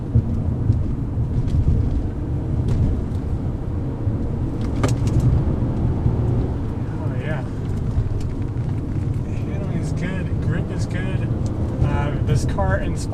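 A 2003 Infiniti G35 sedan with a five-speed automatic pulling uphill on Old Julian Highway after a downshift, its engine a steady, loud cabin drone with wind and road roar and rising revs near the end.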